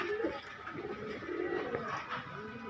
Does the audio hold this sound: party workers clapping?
no